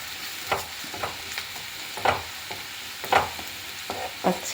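Chili powder being stirred into breadfruit curry frying in a pan, with soft scraping strokes recurring roughly every second over a low, steady sizzle, close and moderately quiet.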